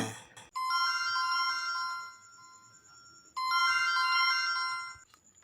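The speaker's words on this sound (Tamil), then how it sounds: "என்னது அண்ணங்கிட்ட ஃபோன் வருது" A mobile phone ringtone plays a bright electronic melody, rings twice with a short gap between, clear and moderately loud with no talking.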